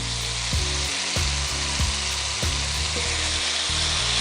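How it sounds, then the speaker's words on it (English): Minced garlic sizzles loudly in olive oil in a pan for Cajun lobster and shrimp, a steady close frying hiss with a few soft clanks and stirs, no talking. "we're going to add our minced garlic"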